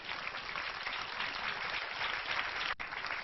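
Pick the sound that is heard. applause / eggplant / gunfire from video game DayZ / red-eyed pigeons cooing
applause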